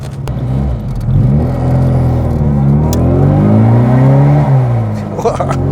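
A 1973 Wood & Pickett Margrave Mini with sports exhaust pulls through the gears, its raspy engine note rising and falling steadily from inside the car, loud under a voice talking.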